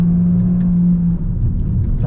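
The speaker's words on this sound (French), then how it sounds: "le moteur fait un bruit. Voilà, donc quand on accélère" Renault Megane E-Tech 160 hp engine accelerating, a low rumbling drone with a steady tonal hum that fades partway through, heard close from inside the car without talk.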